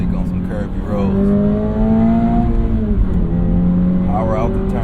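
A 2025 Toyota GR86 Hakone Edition with its factory-upgraded exhaust pulls hard on a curvy road, a steady loud engine drone rising through the revs from inside the car, with someone talking over it.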